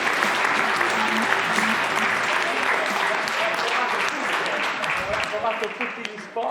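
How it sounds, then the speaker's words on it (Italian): Loud, dense applause from a studio audience on an Italian sports TV program, steady and continuous before thinning and fading out near the end. "facciamo un applauso"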